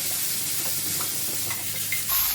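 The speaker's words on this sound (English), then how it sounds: "Just going to go in now with our chopped garlic and saute just to sweat that garlic down" Chopped garlic sautés in a hot pan beside broccoli, a loud, dense, continuous sizzle with a few light stirring scrapes, close and steady, with no voices.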